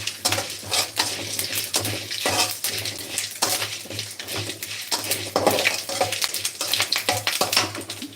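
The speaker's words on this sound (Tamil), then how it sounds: "நல்லா சவர வறுக்கணும்" A green chili fries in a pan while a spoon stirs it repeatedly, producing close, rhythmic scraping and clinks over a low, constant sizzle.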